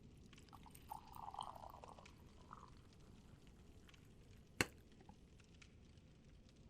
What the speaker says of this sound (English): And I'm going to pour this coffee ASMR style.